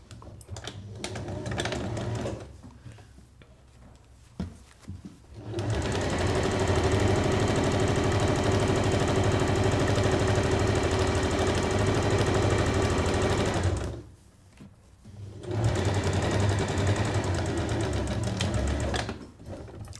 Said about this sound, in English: you need to sew the bottom edge